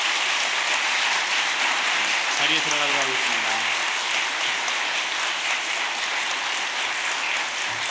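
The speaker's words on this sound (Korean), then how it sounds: "우리 15분의 권사님들 인사할 때 우리 또 큰 박수로 축하해 주시기 바랍니다" A church congregation at an ordination service claps in a steady, continuous wash of applause, with a voice briefly speaking through it.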